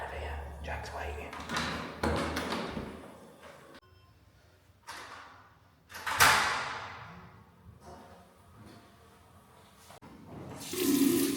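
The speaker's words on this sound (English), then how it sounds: "Definitely washing your hands because it's posh soap as well." Sink tap in a posh palace toilet with gold fittings runs in short bursts as hands are washed, splashing water rising and falling close by, with a door and handling sounds and quiet talk between.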